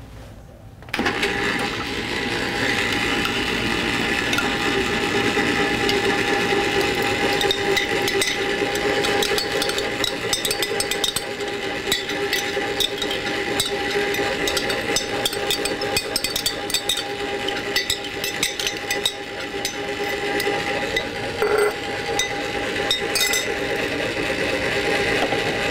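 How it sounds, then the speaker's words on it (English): Ice cream maker churning a dark chocolate ice cream mixture, a steady mechanical whirring grind with rapid clicking and rattling throughout, continuous and fairly close, starting abruptly after a brief quiet moment. "the machine will sound like it's laboring when it's really fluffy"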